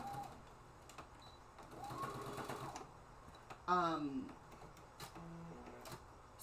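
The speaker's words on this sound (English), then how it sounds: "Let me just finish sewing this piece right here." A sewing machine stitches a fabric piece in short mechanical bursts, its rapid needle whir rising and stopping, close at hand, with a person talking in between.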